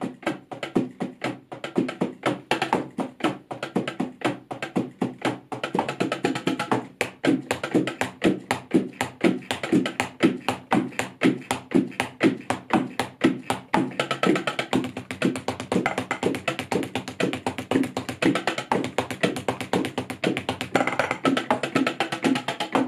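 Unamplified hits on the rubbery mesh pads of an Alesis Turbo Mesh Kit electronic drum set form a rapid, continuous stream of dull taps and thumps over about twenty seconds, with steady rhythmic playing.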